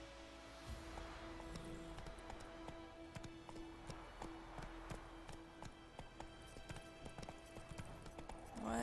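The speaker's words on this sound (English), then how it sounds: "Whoa there, Roach." A horse's hooves gallop in the video game The Witcher 3, a fast steady clip-clop close by over a soft, rain-like background hiss.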